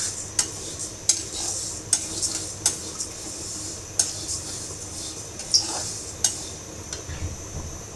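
Lentils fry in a pan while a spoon stirs them, giving regular metallic scraping taps about once a second over a soft, steady sizzle, close and clear.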